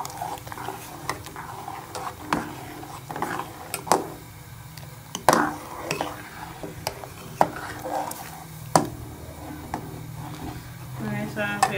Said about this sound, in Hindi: थोड़ा थोड़ा मैं इसको डालते जाएंगे, साथ साथ चम्मच चलाती जाऊंगी।